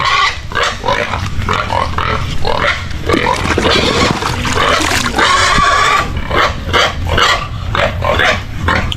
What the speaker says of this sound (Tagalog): Ito ngayon kasi mga inahing baboy to.